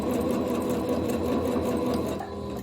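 A sewing machine stitches slippery fabric for a shirred-waist pant, a steady close whirring drone that runs continuously and eases slightly near the end, with no speech.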